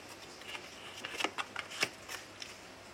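Lenormand cards being shuffled by hand, a quick run of crisp riffling flutters and soft papery slaps, close and alone with no talking.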